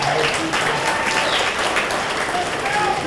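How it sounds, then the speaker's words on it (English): A crowd at a high school athletic Hall of Fame ceremony applauds a basketball inductee with steady, dense clapping. Murmured voices sit underneath. "you all give a round of applause for that"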